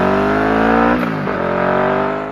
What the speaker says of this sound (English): produce an exhaust note that sounds like half of a supercar